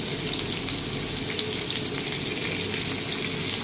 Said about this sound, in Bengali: এবার দিয়ে ভালো করে ভেজে নিচ্ছি সবজিটাকে